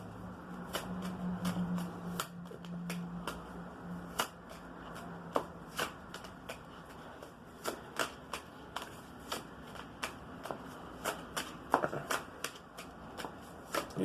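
Tarot cards being shuffled and dealt in an Egyptian tarot reading. Crisp riffling snaps repeat steadily and fairly close, with a faint low hum underneath and no talking.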